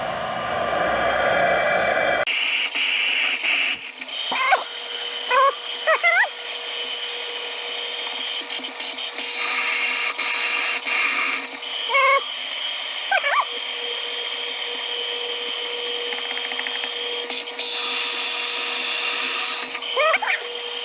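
A hole is punched in metal during a nurse tank build, with a loud, steady mechanical whine broken by repeated short clanks and bursts close by.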